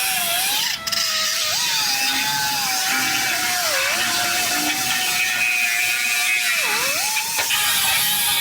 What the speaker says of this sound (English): I'm just gonna cut this cross member in half and get this out of the way